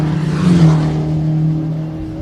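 Race car entering the pit lane at Cadwell Park during a GAZ Shocks 116 Trophy race, a loud steady engine drone close by that rises slightly, then settles to a lower idle-like tone.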